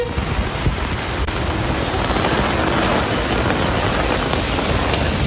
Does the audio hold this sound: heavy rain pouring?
yes